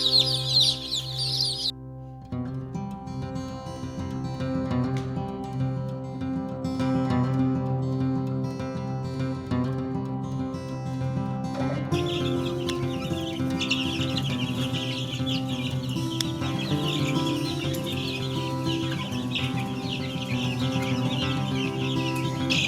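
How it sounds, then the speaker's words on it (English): Two-week-old baby chicks cheep and peep in their pen, many overlapping high chirps layered over a constant low hum, close and busy throughout, with a brief louder burst at the very start. "It's been 2 weeks now since I got these chicks in."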